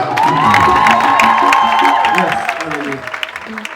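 At a gospel concert, the crowd cheers and claps as a singing voice holds a long note over a musical accompaniment, the applause and shouts dense at first and thinning toward the end.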